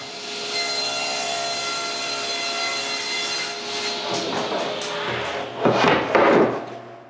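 A wood panel is sawn in steady, continuous rasping strokes, close and fairly loud, ending in a few heavier scraping cuts and knocks.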